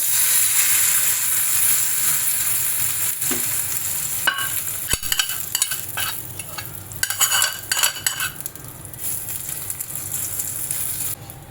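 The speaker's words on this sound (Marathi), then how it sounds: "आता आपण या चटणीवरती ही जी फोडणी आहे ही घालणार आहोत" Hot oil tempering hisses and sizzles loudly as it is poured onto raw green tomato chutney, then crackles and fades while a spoon stirs.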